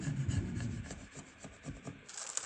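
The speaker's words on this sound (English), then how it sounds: "start scraping this off way too soon" A tool scrapes sealant off a gun part in a workshop, giving a steady rasping rub that is louder at first, then breaks into shorter strokes, close up with no talking.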